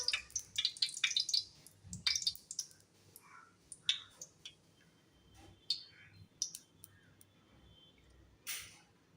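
Hot oil in a kadai crackling and spitting over a bit of leftover water, a burst of sharp pops and sputters at first that thins into scattered crackles, close by.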